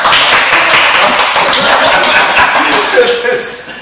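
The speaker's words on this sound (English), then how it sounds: "So a round of applause." Audience applause after a psychological talk, dense and sustained clapping from a crowd, loud and close, tapering off slightly at the end.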